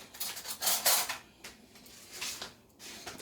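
Metal tablespoon scooping relish for potato salad, with several clinking, scraping taps against a dish in quick irregular bursts, close and fairly quiet.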